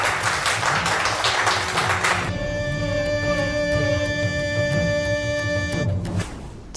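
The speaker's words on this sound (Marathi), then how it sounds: "त्यांच्यासाठी एकदा जोरदार टाळ्या." An audience bursts into loud, dense applause at a guest's arrival during a televised Marathi serial scene; the clapping fades after two seconds as a sustained musical chord takes over and rings out.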